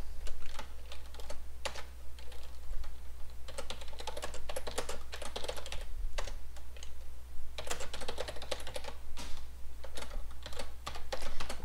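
HTML code is typed on a computer keyboard in uneven bursts of quick, close keystrokes with brief pauses, over a steady low hum and no talking.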